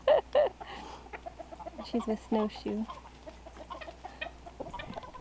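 Clucking from a Polish hen, one of a small backyard flock heading back to its coop, comes as a few short close calls in the first seconds, with people talking nearby over the rest.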